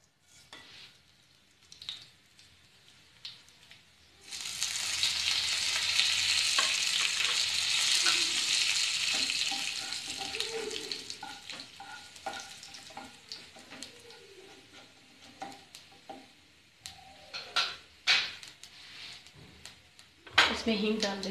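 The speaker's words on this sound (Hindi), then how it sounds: "अब हम इसमें जीरा डाल देंगे।" Cumin seeds hit hot oil for a red chilli sauce, bursting into a loud, steady sizzle that holds for several seconds, then fades into quieter crackling and stirring, with someone talking at the end.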